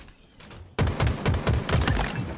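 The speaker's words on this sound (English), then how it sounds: "I got to give you guys the sound" Bandit rifle in Halo Infinite firing a rapid burst of about five sharp, punchy shots in quick succession, loud and close with no talking over it.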